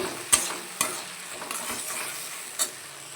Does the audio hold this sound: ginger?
yes